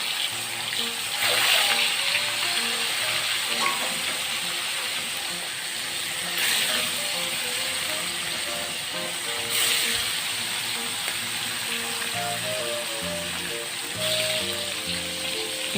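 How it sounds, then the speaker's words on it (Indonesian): Flour-dusted fish frying in hot oil, a steady broad sizzle and hiss running throughout under background music, with occasional louder bursts of spatter. "setelah minyak udah panas, saya ambil terigu sedikit saja, lalu saya masukkan ikannya"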